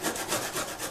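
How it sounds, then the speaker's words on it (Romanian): Quinces are grated on a large kitchen grater, producing a steady rhythmic rasping scrape, several strokes in under a second, close and fairly loud with no talk. "le voi da pe toate prin răzătoarea mare"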